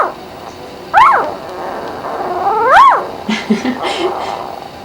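A Vizsla puppy gives two high, rising whimpering cries a couple of seconds apart, followed by softer small yips, close and fairly loud.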